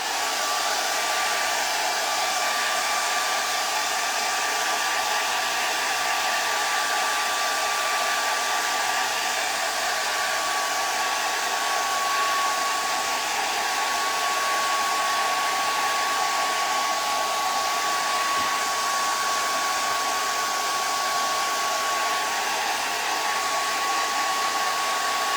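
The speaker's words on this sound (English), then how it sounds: "I'm gonna use my dryer for a minute." A hair dryer blows continuously with a loud, broadband whoosh and a faint steady whine, running unchanged throughout with no voices.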